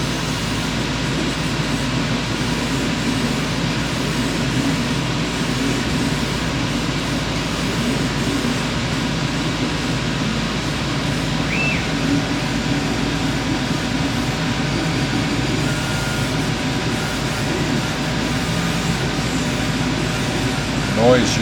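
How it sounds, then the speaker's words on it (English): A workshop exhaust fan roars in a steady, unbroken drone for the whole stretch, loud and close, with a small air compressor blowing alongside during decorative cutting work. "The noise you hear is an exhaust fan"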